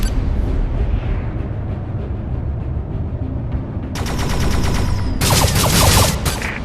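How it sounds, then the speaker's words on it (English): Spaceship laser blasts in the Anshar 2: Hyperdrive video game, rapid repeated shots in quick bursts over a steady engine rumble, loud and close. "Shoot your first laser blast."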